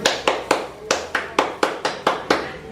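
A group claps hands in a steady rhythm during an icebreaker sing-along at a PKH family development session, eleven crisp, evenly spaced claps, close and clear, with no voices over them.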